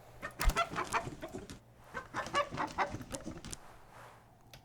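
A chicken in the video game Book of Hours clucks in two quick bursts of rapid, chattering clucks, close and clear, then fades to quiet with no talking.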